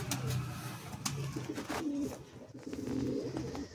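Pigeons coo in a loft in Kharagpur, low repeated throaty calls from several birds overlapping at moderate distance, with faint rustling between them.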